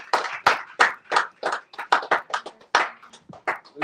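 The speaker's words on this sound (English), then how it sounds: "A round of applause for Brother Sam" A small crowd at a community organizing gathering claps in sparse, separate, sharp hand claps, irregular and fairly close, with quiet gaps between them and no talking.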